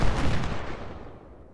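Cannon blast in the Ultimate General: Civil War video game at the Battle of Bayou Forche: a single loud, deep boom that rolls away into a fading rumble over about a second and a half.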